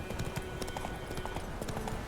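Horse hooves clip-clopping in the video game The Witcher 3, a quick steady trot of close, busy hoofbeats running continuously under a faint hum.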